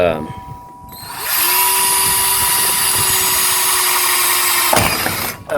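A power drill whirs at a steady high pitch for about three and a half seconds while installing a garage door sliding lock with self-drilling screws, then stops, close by.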